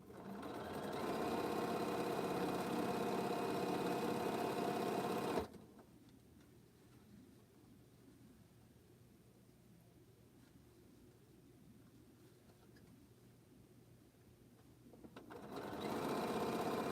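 Sewing machine stitching quilt fabric pieces, a rapid steady mechanical whir that runs about five seconds, drops to a faint hum during a pause, then starts up again at the end.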